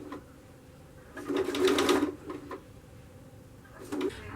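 A sewing machine stitching around the corners of a boxed pillow or cushion, with a couple of brief bursts of close, moderately loud rapid mechanical whirring separated by a quiet stretch.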